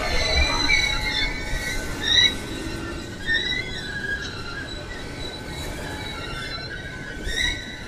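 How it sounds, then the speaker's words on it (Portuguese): Freight train braking at a level crossing in Embu-Guaçu, with steady high-pitched wheel squeal over rumbling wagons, loud and close and continuing throughout. "Aplicação de freio."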